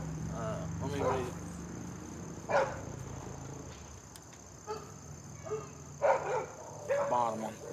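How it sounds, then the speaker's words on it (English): Dogs bark inside a house, several sharp yips and barks scattered over a few seconds, fairly close, alongside a person talking. "The dogs in the house are kind of wilding out."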